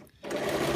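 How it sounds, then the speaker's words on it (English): A sewing machine stitching a fabric cushion cover, starting after a brief quiet moment and then running in a steady, close, continuous whir for under a second. "So we need to do some reverse stitching at this point."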